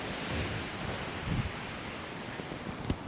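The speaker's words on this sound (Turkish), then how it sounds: "Çok rüzgar var e, muhtemelen boğuk boğuk geliyordur." Wind buffets the microphone as a constant muffled rush, with a few faint rustles and a small thump near the end; no talking.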